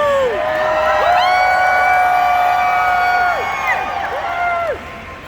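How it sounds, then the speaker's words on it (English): A big convention-hall audience at a Brendan Fraser fan event cheers and whoops near the mic, loud and steady for several seconds before thinning out, with a few shouted voices on top. "keep that applause going for Mr. Fraser"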